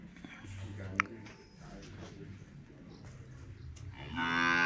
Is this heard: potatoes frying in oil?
no